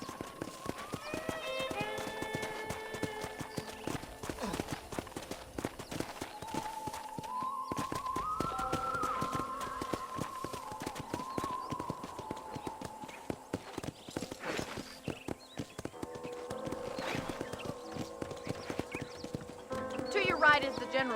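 Hoofbeats of a horse in Red Dead Redemption clip-clop steadily at a brisk pace, up close, with a whinny or two, under game music and occasional talk.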